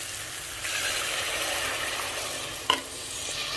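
Spoon stirring pilau with leftover beef in a pot, a continuous close scraping and sizzling with one sharp clink near the end, no talking.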